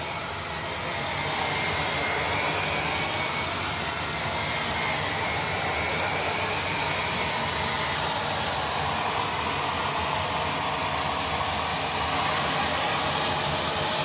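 A vacuum cleaner runs steadily on medium pile carpet, a loud continuous whooshing motor drone with little change throughout and no talking.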